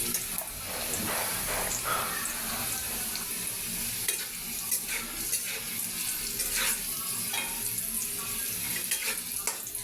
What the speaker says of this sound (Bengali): তারপরে নাড়াচাড়া দিয়ে দিতে হবে